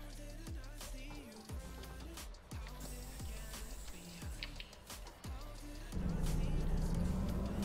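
A steady engine drone with repeated rising gear-shift whines, then a louder rumbling roar near the end, a simulated truck accelerating in American Truck Simulator.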